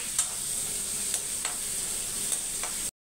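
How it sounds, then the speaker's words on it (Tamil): One large onion and green chillies sauté in hot oil in a pan, giving an even, close sizzle with a few light stirring clicks before the sound cuts off abruptly. "பச்சை மிளகாய் பொரிஞ்சவுடனே ஒரே ஒரு பெரிய வெங்காயம். வெங்காயத்தை பாதி வதங்கணும்."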